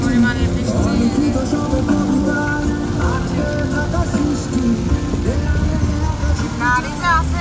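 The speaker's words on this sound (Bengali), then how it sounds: "আমরা বৃষ্টিতে গাড়ি নিয়ে যাচ্ছি" Car driving through heavy rain on the road from Chittagong toward Cox's Bazar, a dense continuous hiss and drumming of rain over the engine and road noise, with a voice speaking at times.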